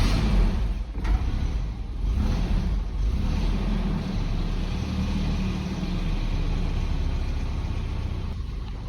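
A Nissan 240SX engine idles after its first start in 12 years, fed from a temporary fuel tank with a slight timing chain rattle, making a steady, loud, close broadband rumble that runs unbroken throughout with no talking.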